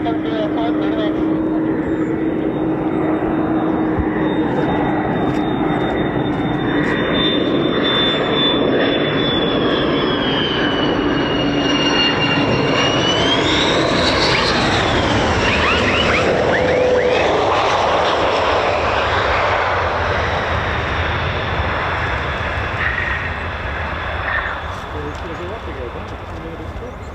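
An F-15 or F-35 fighter jet flies at RAF Lakenheath with a loud, sustained engine roar and a rising then falling whine as it passes, with someone talking throughout.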